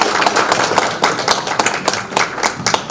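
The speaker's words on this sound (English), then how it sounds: "Please give a big round of applause to them." Clapping from an audience at a reception for a governor in a Flushing hotel, with sparse, irregular hand claps close by rather than a dense ovation.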